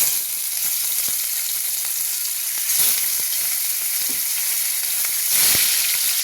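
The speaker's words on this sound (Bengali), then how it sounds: "তেল গরম হয়ে গেছে, মাছটা ভাজতে দেব" Fish frying in hot oil in a home kitchen: a steady, loud, close sizzle that swells briefly twice, with no talking.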